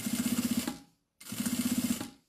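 Sewing machine topstitching a zip seam at presser-foot width on a Carpe Diem necessaire: two close, steady bursts of rapid rhythmic stitching, separated by a brief pause.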